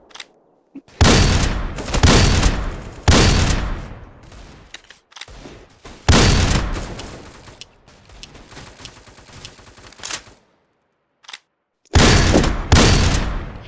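Sniper rifle gunfire rings out in a video game, heard as a few loud, close bursts of shots with booming tails, separated by short quiet gaps and softer in-game sounds.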